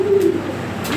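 A Lahori pigeon gives a single short, low coo at close range, then falls quiet against faint background noise.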